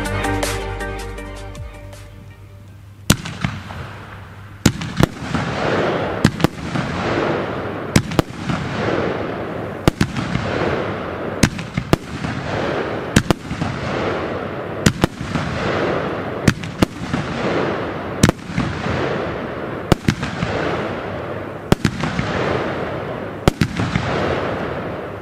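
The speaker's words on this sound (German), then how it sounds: "Pretty Heaven von Wilco, eine 13-Schuss-Batterie mit 30 mm" A Weco Pretty Heaven 13-shot 30 mm firework battery fires in a steady sequence of sharp launch pops and crackling bursts at regular intervals, loud and outdoors, after a brief fuse hiss at the start.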